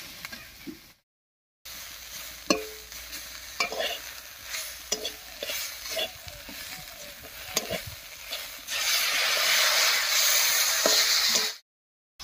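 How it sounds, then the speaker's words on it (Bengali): Ginger and cumin paste is stir-fried with radish greens in a pan: repeated utensil scrapes and knocks over a sizzle that swells into a loud, dense hiss toward the end, with brief silent gaps at both edges. "এবারে আদা আর জিরা বাটাটা দেব"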